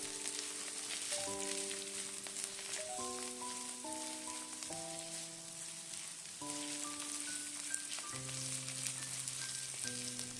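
Carrot strips and ham slices are stir-fried in a wok with oil and chopped scallion, giving a steady close hiss of sizzling throughout, with background music playing over it.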